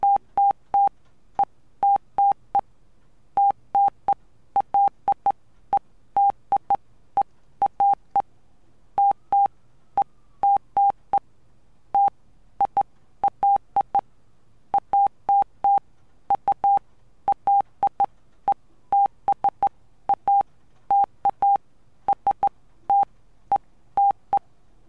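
Python-generated Morse code beeps at 90 ms per dot with dashes three times as long: a steady single-pitch tone keyed into irregular groups of short and long pulses, loud and clean, continuing for the whole stretch with no talking.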